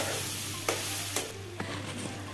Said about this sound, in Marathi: आणि आता आपण हे जे फोडणी घातली त्याला खूप छान असं परतवून घ्यायचं, मस्त परतवून घ्यायचं